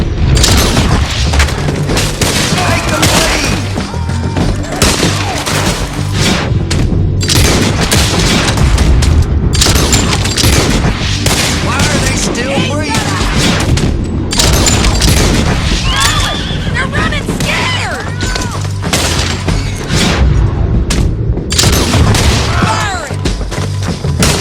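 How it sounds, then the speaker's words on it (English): Dynamite blasts in the Red Dead Redemption gunfight at Rhodes boom repeatedly amid gunfire and horse whinnies, loud and dense throughout. "A little dynamite, mostly for the video."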